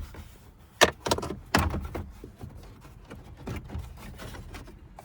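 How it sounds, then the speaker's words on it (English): Pressure clips pop loose as a Jeep Liberty dash panel is pried off, giving several sharp plastic snaps and clunks close by, with rustling and creaking of the trim between them. "just start popping the pressure clips loose"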